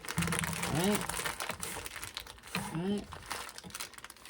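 A plastic freezer bag holding grated cheese is handled and pressed, making close crinkling and rustling, with a squeaky sucking noise twice as air is drawn out.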